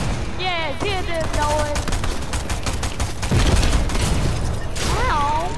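Rapid SMG fire in Fortnite crackles in dense bursts throughout, with game effects and tones overlapping and a louder thump near the middle, while players chatter over the shooting.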